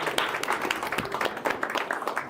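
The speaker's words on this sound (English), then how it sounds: "Let's give him a round of applause." An audience at a product meetup claps for a speaker taking the stage, a short, dense round of applause with some sharper individual claps, no talk over it.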